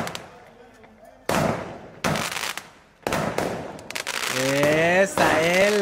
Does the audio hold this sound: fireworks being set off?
yes